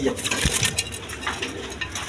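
A German silk pigeon flutters restlessly close by, its wings giving quick flaps and scattered clattering bursts over a soft background of other pigeons.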